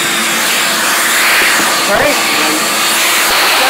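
A vacuum hose runs while a laundry vent pipe in a ceiling is cleaned out, giving a loud, steady whooshing roar throughout, with a brief spoken word over it.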